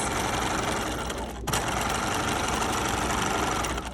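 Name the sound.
sewing machine stitching a gathering row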